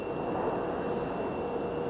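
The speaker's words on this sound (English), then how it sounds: "As Delta rolls that 737-900 down" A Delta Boeing 737-900 jet rolls down the runway after landing, a steady broadband roar of engine and rushing air holding at a constant distance, with no voices over it.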